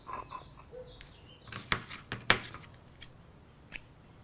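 Scissors snip thread at a crafting table while a pamphlet zine is assembled: a few sharp, brief cutting clicks spaced over a few seconds, close and fairly quiet.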